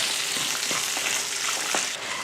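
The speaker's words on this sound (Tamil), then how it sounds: "கொஞ்சமாக புளி சேர்த்து இதை வதக்கி விட்டுருவோம்" Chillies, onions, garlic, ginger and tamarind sizzle steadily in a hot pan, with a few soft stirring taps over the constant frying hiss.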